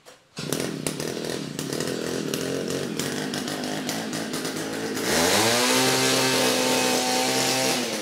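Engine-powered earth auger with a 200 mm drill bit revs up, a loud continuous two-stroke buzz that starts abruptly and climbs in pitch as the throttle opens near the end.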